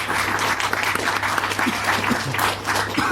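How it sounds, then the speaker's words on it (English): An audience applauds podcast guests Terry Molloy and Dominic Glynn at a Doctor Who fan convention interview, with steady, dense clapping that lasts the full three seconds at a fairly loud, even level. "So would you like to give them a round of applause"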